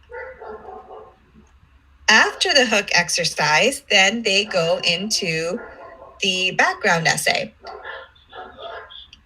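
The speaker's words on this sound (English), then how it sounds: "I apologize for the barking dogs in the background if you all can hear it." Dogs bark faintly in the background of a home setting while a person talks steadily over them, the barking mostly buried beneath the voice.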